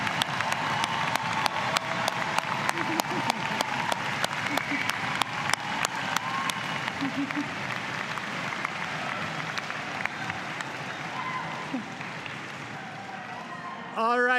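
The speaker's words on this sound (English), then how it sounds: "we want to encourage you to please another round of applause for these fantastic" A convocation audience applauds graduates with dense, sustained clapping filling the hall, some sharper close claps standing out, gradually thinning toward the end.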